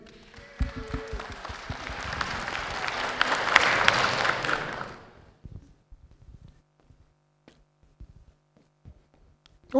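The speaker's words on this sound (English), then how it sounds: "Ladies and gentlemen, one round of applause, please." An awards-ceremony audience at a manga awards event claps in a burst of applause that swells for about five seconds, then dies away into scattered claps and quiet room shuffles.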